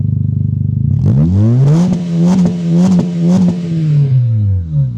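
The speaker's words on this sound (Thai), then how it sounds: "มาฟังเสียงเครื่องยนต์กันครับ" A 2018 Honda Jazz 1.5 RS engine idles briefly, then revs hard several times in quick bursts, the pitch climbing and dropping with each push. Loud and close.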